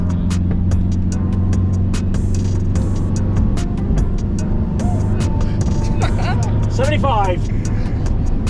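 A Fiat 500 fitted with a Ducati engine accelerates through the gears on a steep road, its engine droning steadily and close while people talk excitedly over it.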